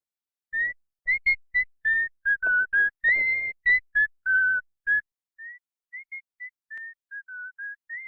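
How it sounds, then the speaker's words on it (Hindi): A person whistling over a phone call, a series of short, clear, tuneful whistle notes in a steady rhythm, slightly thin and filtered, with no talk. "सीटी बजा रहा।"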